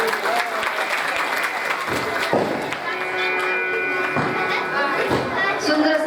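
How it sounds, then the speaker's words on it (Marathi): An audience at a village wedding ceremony held during a Bhagwat katha week claps, a dense, steady patter of applause running throughout with a few thumps, while a voice speaks over the crowd. "सर्वांसाठी जोरदार टाळ्या वाजवा"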